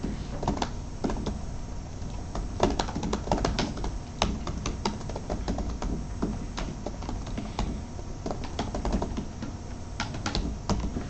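Code being typed on a computer keyboard: irregular clusters of quick key clicks with brief pauses, close and moderately loud, no talking.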